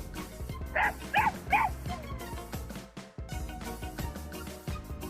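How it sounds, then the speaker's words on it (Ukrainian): A puppy gives three quick high yips close by, with rhythmic music and a thumping beat playing behind. "А, це цуценя, їх малесеньке дитя."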